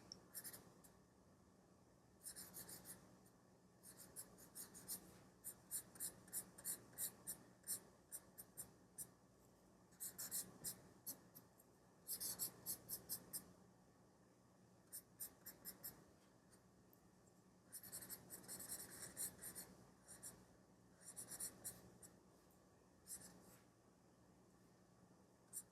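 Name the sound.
2B mechanical pencil drawing on paper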